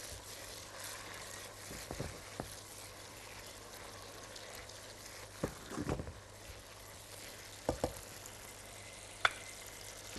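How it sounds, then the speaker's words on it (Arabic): Alexandrian sausage sautéing with spices in a pan, a soft continuous sizzle with a few louder scraping stirs and clinks, quiet and close, no talk. "هبدا بقى ان انا اضيف السجق بتاعي. يتشوح كده"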